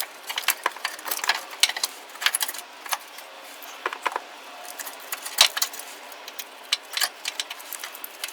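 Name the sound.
bolts being fastened on Chevrolet Trailblazer air pump mounting bracket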